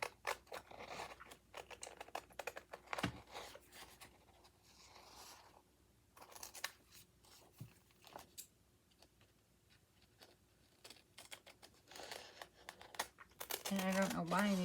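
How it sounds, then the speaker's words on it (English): Big scissors cutting lightweight paper or tea-bag material while a prayer journal is being made, heard as scattered close snips and rustles with quiet scraping. There is some faint background noise, and a louder burst comes near the end. "I don't know why I'm using my big scissors"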